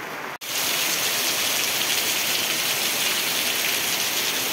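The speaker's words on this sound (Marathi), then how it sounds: "सकाळपासून पावसाची वाट पाहत होतो आणि आता पाऊस लागायला लागला." Steady monsoon rain pours over village paddy fields in the Konkan, a dense, even hiss of drops that starts abruptly after a brief pause and continues unbroken, close and loud throughout.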